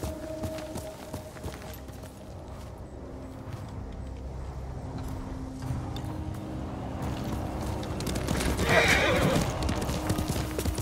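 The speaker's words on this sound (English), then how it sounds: "You're a good horse, Noble." Hoofbeats of a horse ridden in the Ghost of Tsushima video game clip-clop steadily under a game soundtrack, and the horse whinnies loudly near the end.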